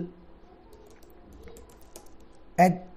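Sparse, soft keystrokes on a computer keyboard tap out a name, with a voice breaking in loudly near the end.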